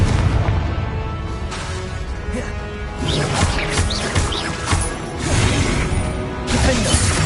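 In Hogwarts Legacy, the Confringo explosive curse sets off booming blasts and crashes amid spell combat, loud heavy impacts recurring across several seconds over a rumbling backdrop.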